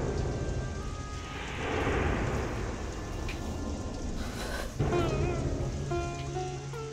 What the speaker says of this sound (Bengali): বাইরে এমনিতে এত বৃষ্টি,